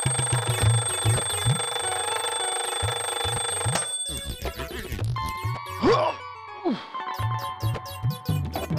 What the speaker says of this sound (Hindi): ये अलार्म 7 बजे कैसे बज रहा है?